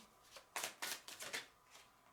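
A deck of cards is riffled a few times up close, a cluster of sharp shuffling bursts followed by a fainter one.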